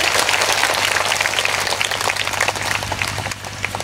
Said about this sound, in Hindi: जोरदार तालियों से आप लोग भी स्वागत करें